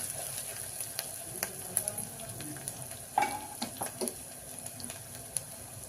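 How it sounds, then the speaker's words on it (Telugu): Ginger garlic paste fries in a pressure cooker with a soft, steady sizzle, broken by scattered clicks and scraping taps from stirring, fairly faint and with no talking. "అల్లం వెల్లిగడ్డ పేస్ట్ పచ్చిదనం వెళ్ళేలాగా వేయించుకోవాలి."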